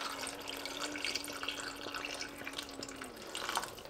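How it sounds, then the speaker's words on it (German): Tap water being poured into a cooking pan of tomato sauce, a quiet, continuous trickling and splashing close by that runs steadily for a few seconds. "Und gebe auch noch Wasser mit dazu,"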